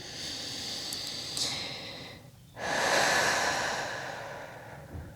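Deep breathing during a yoga stretch for side-split flexibility: slow, close breaths with a long airy inhale and exhale, a brief pause midway, no talking.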